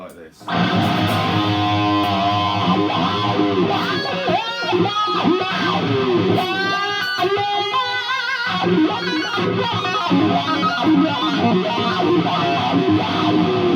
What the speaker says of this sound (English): if you want to hear the jerry cantrell wah